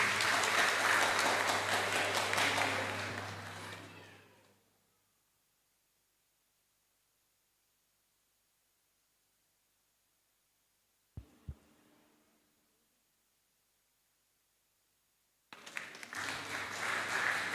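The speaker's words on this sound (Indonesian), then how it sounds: "Berikan tepuk tangan Bapak Ibu." An audience at a church welcoming ceremony claps loudly and densely for about four seconds before fading to silence. After a brief thump, the applause bursts back in near the end.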